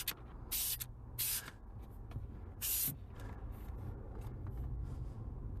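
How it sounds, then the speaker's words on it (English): Cleaner sprayed onto car floor mats during detailing: three short, sharp hissing bursts from a spray bottle, close and loud, separated by quieter rustling and handling noise. "Spray them again."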